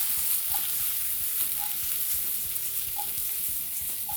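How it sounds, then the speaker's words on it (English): Onion and garlic sizzle in shimmering hot oil in a pan while being tossed, a steady close crackle with light stirring knocks and no talking. "Just tossing this onion and garlic."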